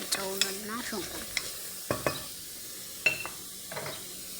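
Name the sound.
onion, garlic and ginger cooking in a pan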